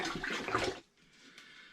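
Spring water poured into a home brew gooseberry bitter mix in a fermenting vessel, a rushing, splashy pour that cuts off abruptly partway, leaving a quiet room tone.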